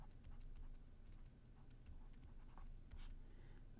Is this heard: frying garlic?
no